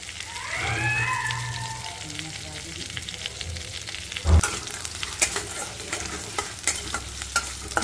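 Mustard seeds crackle and sizzle in hot ghee during a tempering, with a spoon stirring through the pan; sharp pops and scrapes scatter over a steady frying hiss, and a brief voice murmurs early on.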